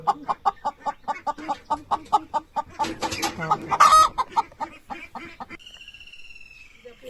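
Hens cluck in a steady run of short calls, with softer, high peeping from chicks mixed in, close by, then tapering off.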